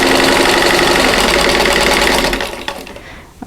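A sewing machine stitches quilting fabric along a drawn line for a Christmas bauble block, running loud and steady with a continuous mechanical whir, then slowing and stopping near the end with a few soft clicks.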